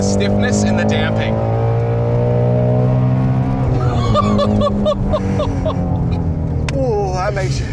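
A Ford Shelby GT350R's engine drones loudly and continuously from inside the car, its pitch climbing and falling as it revs, with people talking over it throughout.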